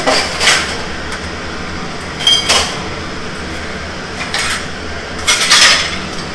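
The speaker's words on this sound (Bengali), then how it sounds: "বাসনগুলো এবারে জায়গাটা জায়গায় রেখে দেবো" Dishes and utensils are set back in place in a home kitchen, with a few scattered clattering knocks and clinks of metal and crockery over a low background hum.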